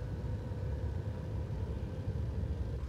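An Arriva GTW diesel train in Train Simulator 2015, Valleilijn route, accelerates with a low, steady engine rumble that stays even and close throughout.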